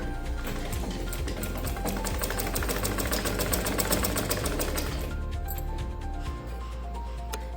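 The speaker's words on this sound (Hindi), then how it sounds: "स्टिच लगाने स्टार्ट करेंगे" A sewing machine stitches padded blouse parts in a fast, steady mechanical whir with dense rapid needle ticking, loud and close, easing slightly toward the end.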